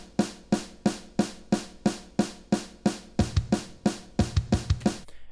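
Drums open a song at 90 BPM with evenly spaced, crisp hits in a steady eighth-note pulse, and heavier kick accents join in the second half, close, clear and free of any voices.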